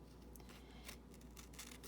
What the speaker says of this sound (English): I'm going to trim with scissors right along this edge.